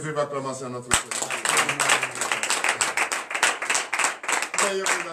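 A church congregation at a morning prayer service claps and cheers: rapid, steady rhythmic clapping starts with a sharp onset and continues strongly, with voices and calls over it.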